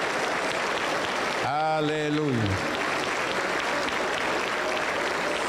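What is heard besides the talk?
church congregation applause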